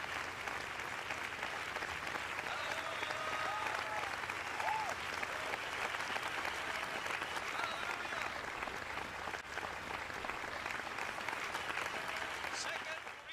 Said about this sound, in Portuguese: Vamos dar uma salva de palmas ao nosso Pai Todo-Poderoso.